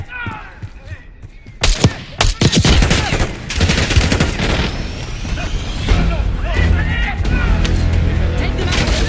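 Gunfire rips through a Black Ops 6 campaign battle, loud bursts of rifle and machine-gun fire with booming impacts, then a sustained rattling barrage, with voices shouting amid the shooting.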